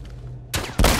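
Gunfire in The Last of Us Part I: two sharp, loud shots from a sniper rifle about a quarter second apart, the second heavier, then a sustained rumble.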